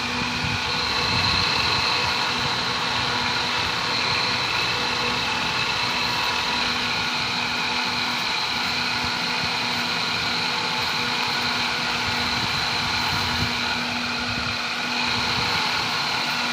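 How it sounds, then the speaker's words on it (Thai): A strong cooling fan on a Massey hay baler roars at a constant, dense level with a steady engine hum beneath, unbroken for the whole stretch. "เป็นพัดลมที่แรง แรงมากครับ"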